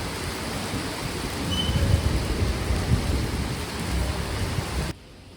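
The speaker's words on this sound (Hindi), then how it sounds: "इतनी आते वक्त बारिश होने लगी, ये देखिए" Heavy rain pours steadily near Vaishnodevi, a dense hiss of falling water with low rumbling beneath, ending abruptly near the close.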